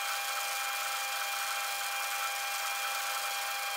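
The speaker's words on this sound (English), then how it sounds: "Here I'm just machining some of the plates to size for the gearbox" A face mill machines metal plates to size for a gearbox, a steady, continuous high-pitched cutting whine that holds at an even level throughout, nearby and alone.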